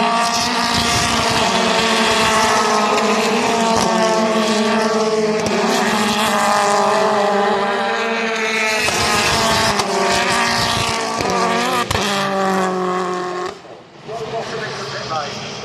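BTCC touring race cars at Brands Hatch, a BMW among them, roar past with loud harmonic engine notes rising and falling as they pass, under continuous race commentary.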